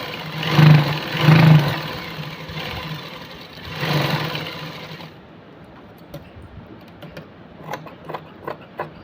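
A sewing machine stitches fabric for a simple suit in loud whirring bursts, three runs in all. Afterward come quieter ticks and clicks from the fabric being handled.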